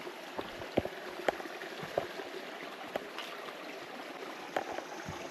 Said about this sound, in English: water flowing